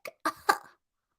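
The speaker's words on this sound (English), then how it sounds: "Oh, I have to cough." A person who is sick coughs a few times in quick succession, close and fairly loud: a short first cough followed by two heavier ones, with nothing else around.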